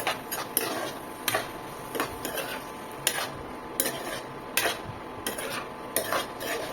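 Paneer is stirred with spice masala in a pan, a spoon scraping and clinking against the metal in a regular rhythm of repeated strokes over a light background sizzle, close and moderately loud.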